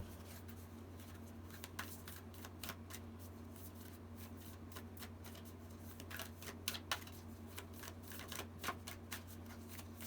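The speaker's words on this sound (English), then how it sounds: "we're going to pull one from the Moonology deck" Oracle cards from a Moonology deck shuffle over a steady low hum, with quiet irregular riffling and soft slaps that grow denser and louder toward the end.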